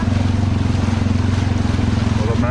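A motorcycle putters through a flooded city road, its engine throbbing in a fast, steady pulse close by amid wind buffeting and splashing water.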